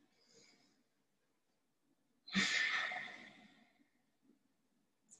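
A single long, audible breath is drawn with constriction at the back of the throat, giving a raspy, hissing sound close to the ear. It follows a fainter breath and is surrounded by quiet.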